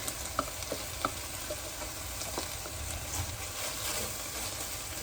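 Beef and garlic fry in a pan with a steady, even sizzle. A few light clinks and stirring scrapes rise above it, and the whole sound stays close and continuous.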